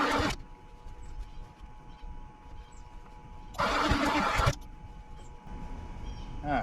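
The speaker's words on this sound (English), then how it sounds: "Alright, so it's backfiring out of the exhaust." A 460 V8 engine idling with two loud bursts of exhaust backfire, one at the very start and a longer harsher one in the middle, over a steady low running rumble.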